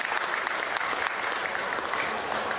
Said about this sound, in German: kurz einen Applaus bitte